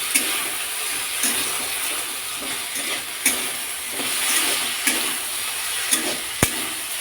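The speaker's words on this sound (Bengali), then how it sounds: "দেখো এখানে আলু ভাজছি," Potatoes sizzle steadily in a hot pan, a dense continuous fry with occasional sharp clicks and scrapes from stirring, close and moderately loud with no talking.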